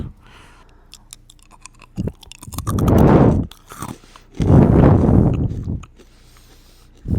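Dried sour candy being bitten and crunched up close, two long loud bursts of crunchy chewing separated by short pauses, with small mouth sounds in between.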